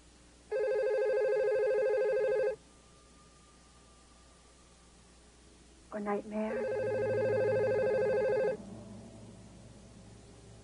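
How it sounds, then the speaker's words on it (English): A telephone rings twice, each ring a steady electronic trill lasting about two seconds with a long gap between, and someone speaks briefly just before the second ring. "Why don't you answer your phone"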